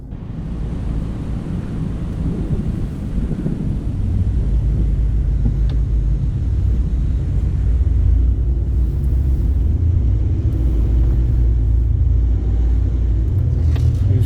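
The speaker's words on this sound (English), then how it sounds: "we're actually on top of a dune right now and the car is struggling" Nissan Patrol straining in drive on top of a desert sand dune, its engine droning in a loud, steady low rumble that grows heavier after a few seconds and holds without gear changes, no talk over it.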